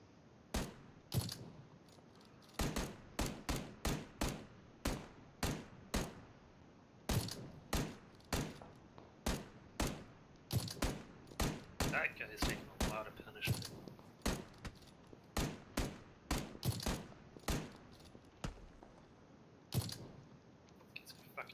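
Gunfire from shooting enemies in a video game: dozens of sharp, separate shots in irregular bursts and single cracks, fairly close, continuing throughout with no talk.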